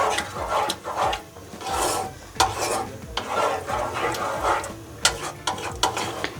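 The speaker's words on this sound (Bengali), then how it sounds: "এবার ফ্লেমটা মিডিয়াম করে এইভাবে মিশিয়ে নিতে হবে মশলার সাথে ডালটা।" Dal being stirred with spices in a pan over a medium flame, giving repeated scraping and rubbing strokes in an uneven rhythm, close and fairly loud, with a faint sizzle underneath.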